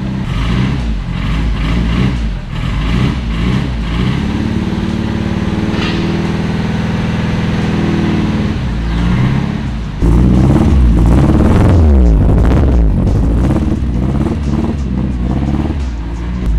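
Honda Civic engine running loud and close, a steady low rumble with uneven, lumpy pulsing like a misfire and a rise in intensity partway through, no talking.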